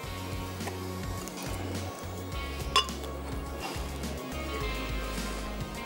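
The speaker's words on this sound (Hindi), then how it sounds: "खजूरें डालेंगे इसमें जनाब।" Dates drop into a blender jar with light clinks and taps, over a steady low kitchen hum.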